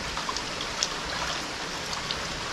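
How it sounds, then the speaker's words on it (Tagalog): Light rain patters steadily on surfaces, with soft scattered drops ticking close by over a faint wash of falling water. "Pabalik-balik lang yung ulan ah."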